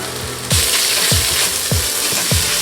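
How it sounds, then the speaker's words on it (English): Chopped vegetables sweating in a hot pan for a tomato sauce, a steady broadband sizzle that jumps louder after a moment, punctuated by several regular low knocks of a utensil stirring against the pan, with no talking. "Now we're going to sweat the veg until they just start catching at the bottom"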